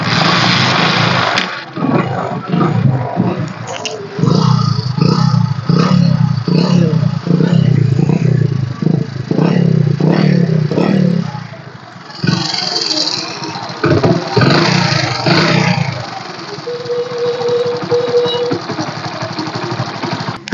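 A Hero Honda Passion Pro self-start motorcycle with alloy wheels, a 2011 model with a slightly weak battery, idles and revs loudly nearby with a rough, clattering engine note that rises and falls throughout.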